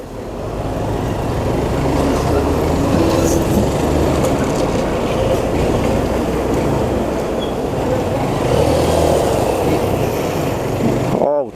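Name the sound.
road traffic heard while riding a motorcycle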